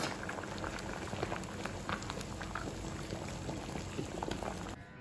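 Water bubbling at a steady boil around a ready-to-eat Tata Q spicy veg biryani pack, a continuous close simmer that cuts off briefly near the end.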